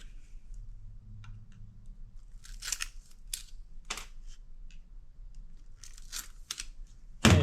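Gold fingers being cut off a server board, a series of sharp isolated snips and clicks with quiet gaps and a louder crunch at the end, close and without talk.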